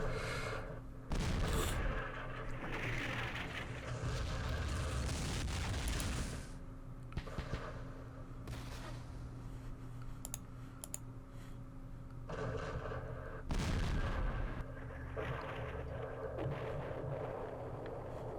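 Friendly-fire explosions and gunfire from the Vietnam war strategy game Campaign Series Vietnam, several bursts of booms and crackling shots at moderate volume, with a quieter stretch between them.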